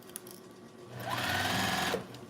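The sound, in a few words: sewing machine running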